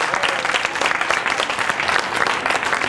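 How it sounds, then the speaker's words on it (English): An audience applauds at a Bike to City Hall event, dense continuous clapping that stays loud and even for the whole stretch, with no talk over it. "Yes, you can applaud, thank you."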